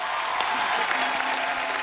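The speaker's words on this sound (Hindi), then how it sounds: "एक बार गौहर और राजीव खंडेलवाल के लिए जोरदार तालियां हो जाएं।" Studio audience clapping on a television comedy talk show, a dense, even burst of crowd applause, loud and close, with no talk over it.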